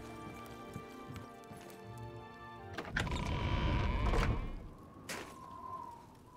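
Horse hooves clip-clop at a stable in the video game Oblivion, a muffled run of steps that follows a stretch of sustained tones and then fades back to quieter sounds.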